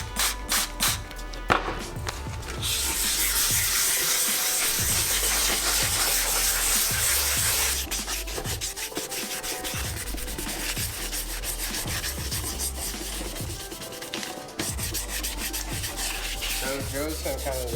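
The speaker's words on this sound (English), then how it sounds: "the first thing we're gonna do is just wet sand it with this 400 grit" Wet sanding with 400 grit sandpaper on a mini bike's paint produces close, rhythmic scraping strokes, first a few short rubs, then a long continuous hiss of sanding, followed by repeated steady back-and-forth passes.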